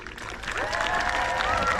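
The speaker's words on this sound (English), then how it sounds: "One more thunderous round of applause for all our fantastic competitors." Audience applause at a jousting tournament: a dense, steady patter of clapping hands with some cheering, sustained throughout while an announcer's voice carries over the crowd.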